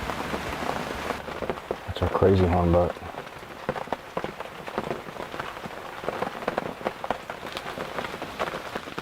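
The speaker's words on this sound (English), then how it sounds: "In spite of it continuing to rain" Steady rain patters on surfaces throughout, with dripping drops close by; a low voice speaks briefly near the start.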